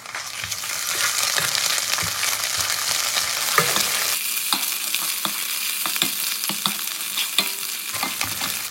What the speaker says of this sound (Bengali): এই পেঁয়াজের মধ্যে আমি দিয়ে দেবো কাঁচা লঙ্কা, রসুন আর আদা বাটা একসাথে।